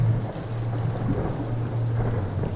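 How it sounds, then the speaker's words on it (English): Steady rain pours through a forest canopy while low, distant thunder rumbles beneath it, a continuous wash of rainfall with a soft underlying drone and no voices. "The rain now falls through the top of the forest, and you hear the distant rumbles of thunder carrying into this space."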